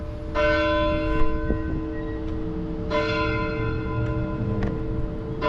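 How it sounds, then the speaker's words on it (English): A courthouse bell in Tuskegee, Alabama rings out in two separate strikes about three seconds apart, each leaving a long ringing hum, with a steady outdoor background underneath. "Sounds like a bell is going off."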